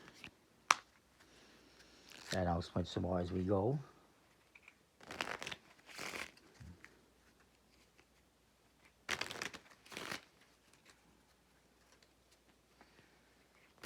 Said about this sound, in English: So we can shuffle up the cards.